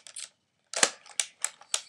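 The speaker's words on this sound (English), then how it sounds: "So, if you press that, it shoots all 6." A Nerf pump-action blaster fires its six darts, giving a short burst of sharp mechanical clicks and snaps, near and fairly loud, after a brief pause.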